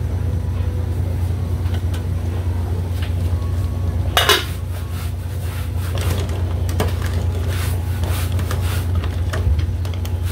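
A metal lid set onto a cooking pot of mussel soup, one sharp clatter in the middle over a steady low kitchen hum.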